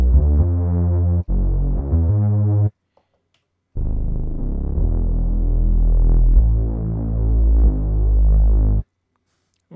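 Filtered sine bass synth tuned to about 50 Hz, playing loud sustained notes: two short phrases, a pause, then one long held passage before cutting to silence.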